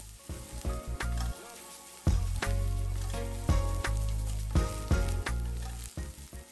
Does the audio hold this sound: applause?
no